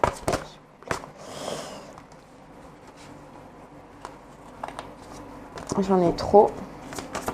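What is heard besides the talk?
tarot cards being shuffled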